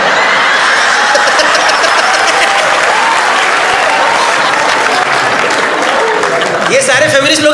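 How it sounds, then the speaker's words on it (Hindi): An audience at a stand-up comedy show applauds, with loud sustained clapping filling the room and a few voices rising near the end. "ये सारे फेमिनिस्ट लोग ही ताली बजा रहे हैं."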